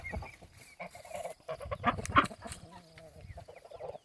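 Guinea fowl call with harsh, raspy clucking cries among other farm birds, a few loud squawks standing out nearby.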